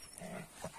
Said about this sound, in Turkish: Hırlayarak oynuyor.